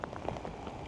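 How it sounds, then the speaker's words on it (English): Heavy rain pouring in Paris, a dense, close patter of individual drops striking wet surfaces in quick irregular succession over a continuous wash, with no talking. "It is raining pretty hard."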